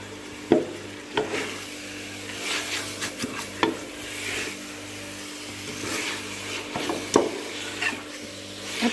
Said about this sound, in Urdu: اب پالک کو ہم اچھے سے بھون لیں گے۔